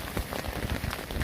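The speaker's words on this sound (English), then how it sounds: "I think I spoke too soon on the rain easing up a little bit." Heavy rain pours steadily onto a hammock shelter on a wet, windy night, a dense, close hiss of drops drumming the surface without pause.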